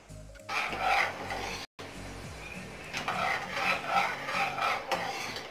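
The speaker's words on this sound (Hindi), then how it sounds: "एक कप शुगर में आपको आधा कप पानी डालना है फिर इसको चलाते रहेंगे" Sugar and water being stirred in a pan to make syrup for shakarpara, a steady scraping and rubbing with a brief pause, close and fairly loud, with no talking.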